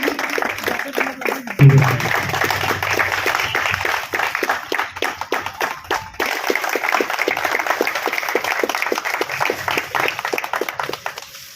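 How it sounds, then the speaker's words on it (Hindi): An audience claps throughout at a police station CCTV room inauguration, a steady, moderately close round of applause that starts after a brief spoken phrase and lasts to the end. "तालियां बजती रहें।"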